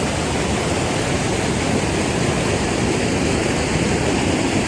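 A waterfall in Andhra Pradesh roars in a dense, unbroken wash of white noise, loud and close with no pauses or voices.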